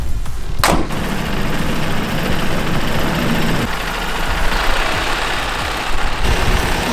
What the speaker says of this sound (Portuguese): agora o Duda foi fazer o test drive no caminhão